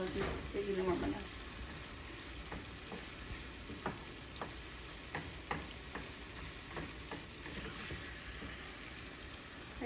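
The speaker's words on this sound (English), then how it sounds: "Gotta keep mixing them up, cooking them in the oil to get even warm enough." Eggs frying in oil while being stirred: a constant close sizzle with scattered scrapes and clicks from the stirring, and a brief voice early on.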